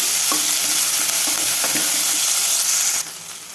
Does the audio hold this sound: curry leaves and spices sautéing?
yes